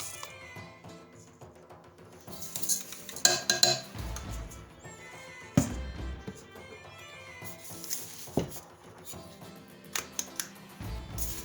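Corned beef spices such as mustard seed being tossed into a cooking pot among clattering kitchen sounds, with scattered clinks, taps and rattles of utensils and cookware, some sharp and close, no speech.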